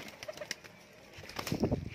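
Grey pigeons in a seller's loft give soft, low coos and brief wing flutters, faint and scattered, with a busier burst of cooing and movement near the end.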